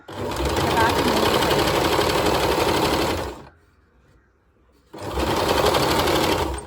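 Sewing machine stitching the folded edges of a churidar top, running loud and steady for about three seconds, pausing briefly, then running again.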